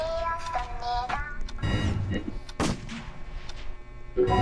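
Gunfire from guards in a Squid Game-style video game, a few sharp shots under a busy game soundscape with brief tones and effects.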